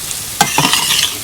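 A spoon scrapes and stirs food in a hot, sizzling pan, with a sharp clatter followed by a few quick scraping strokes over steady frying hiss.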